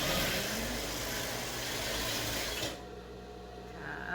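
A sewing machine stitches a beach bag in a steady, close, continuous whir that drops in level near the end and then picks back up.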